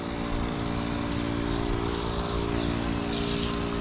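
Snow foam pre-soak is sprayed onto a car with a loud, continuous hiss over a droning pump motor that runs without a break from start to finish.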